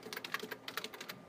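Rapid, uneven keystrokes on a computer keyboard while entering Unity code, a dozen or so close, crisp clicks with no speech.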